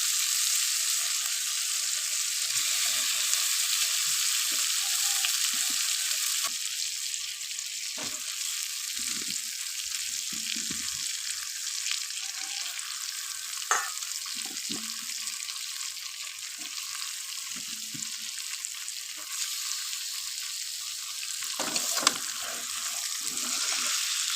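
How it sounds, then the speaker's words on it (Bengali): Goat meat sizzling as it is added to fried spice paste for a thin chuijhal curry, a steady loud frying hiss throughout with scattered clinks and stirring knocks of a utensil in the pan. "মশলা আমার কষানো হয়ে গেছে আমি এবার মাংসগুলো দিয়ে দেবো"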